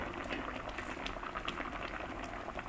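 Fish soup bubbling steadily at a boil in a pot, a dense, continuous burble of small pops, close but fairly soft.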